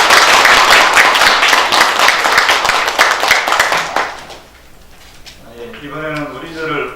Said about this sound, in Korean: 이해찬 당대표님하고 더불어민주당 의원 여러분들의 큰 감사의 박수를 부탁드립니다